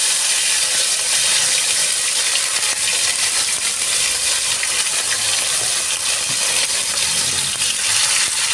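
Tomatoes dropped into hot oil with fried panch phoron and dried red chillies for tomato chutney, giving a steady, loud, close sizzle with broad hiss and crackle that runs the whole time without talk.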